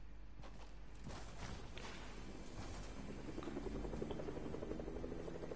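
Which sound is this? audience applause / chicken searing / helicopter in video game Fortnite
helicopter in video game Fortnite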